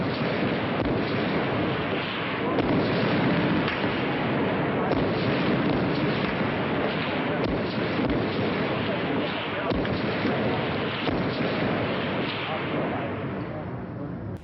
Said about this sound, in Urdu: 4 جون 1984 شام ہوتے ہی توپیں گرجنے لگی۔